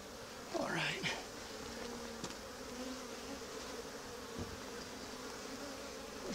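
Honeybees buzzing steadily around an opened hive during an inspection, a dense close hum with one louder swell near the start, the background low and continuous.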